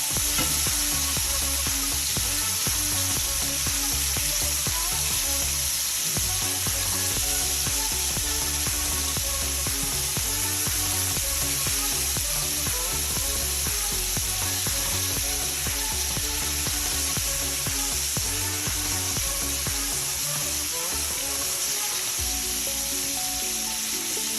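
Lamb chops brown in a pan with garlic butter and herbs, making a loud, constant sizzle and crackle, close and steady for the whole stretch, with no one speaking.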